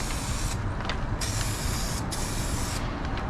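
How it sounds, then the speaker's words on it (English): Aerosol can of touch-up paint hissing out short test sprays from about six inches away, a steady close hiss broken by a few brief pauses, with no one speaking. "if you want to try just a little test spray, about 6 inches away"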